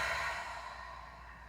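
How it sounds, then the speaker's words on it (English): One long breath pushed out through the mouth during a seated cool-down stretch, soft and close, starting fuller and slowly tapering away. "Take a nice inhale here and exhale it out your mouth"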